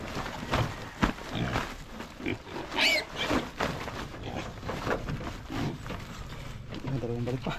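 Pigs grunt and squeal in a pen, with rough snorting bursts and scuffling movement mixed with people talking nearby.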